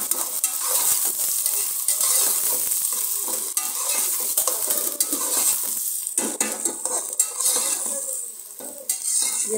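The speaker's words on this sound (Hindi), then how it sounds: "प्याज गर्म हो गया, मैंने लहसुन अदरक डाल दिया।" Onion, garlic, ginger and green chili sizzle steadily in a hot pan, with frequent scraping stirs and light clinks of a utensil against the metal, all fairly close and with no talking.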